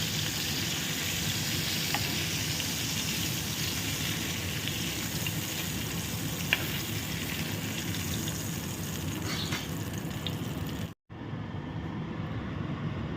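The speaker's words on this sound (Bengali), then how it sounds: "ওই তেলের মধ্যেই দিয়ে দিচ্ছি দেখো গোটা জিরে।" Whole cumin seeds sizzle in hot oil in a long, even crackling hiss with faint ticks, then cut off abruptly near the end before a quieter stretch of frying continues.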